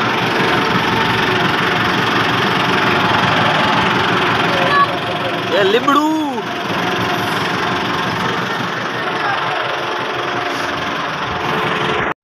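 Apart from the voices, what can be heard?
tractor engine passing by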